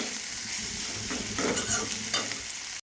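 Ginger garlic paste and spices sizzle in a hot pan while a spoon stirs and scrapes, steady frying noise that cuts off abruptly.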